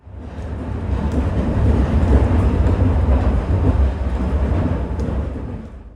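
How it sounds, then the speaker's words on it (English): Glasgow Subway narrow-gauge tube train, new rolling stock, running steadily with a loud, continuous low rumble and rolling hum throughout, swelling slightly midway and easing off at the end, with no talking. "This little fella is Britain's newest tube train."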